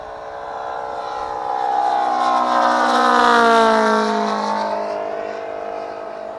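A radio-controlled model airplane engine drones steadily in flight, its pitch sweeping up and down as it swells louder overhead and then fades slightly away, at an airfield event.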